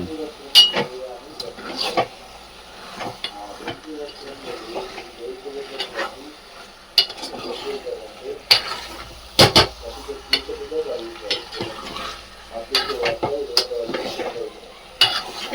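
Masala chicken frying and sizzling in oil in a home kitchen, stirred with a spatula that scrapes and clatters against the pan, with a steady sizzle underneath and several sharp metallic knocks; people talk throughout.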